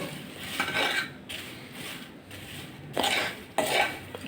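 Puffed grain and a pinch of salt roast in a pan over a slow flame, stirred with a utensil. Soft scraping comes in a few bursts, with a sharp metallic clink as the spoon strikes the pan.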